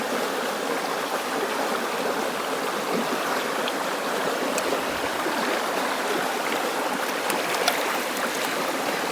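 A Konkan river runs steadily over and around stones, a continuous close rushing wash with no pauses and no voices.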